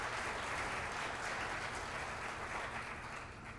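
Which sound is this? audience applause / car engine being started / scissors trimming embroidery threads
audience applause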